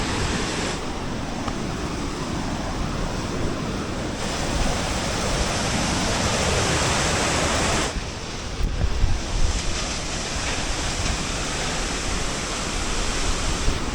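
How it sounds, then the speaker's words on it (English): Bridal Veil Falls, Colorado's tallest waterfall, roars as a loud, steady broadband rush heard up close at its base, with wind buffeting the microphone and a brief change in the roar partway through. "Bridal Veil Falls in Colorado is the tallest waterfall in Colorado."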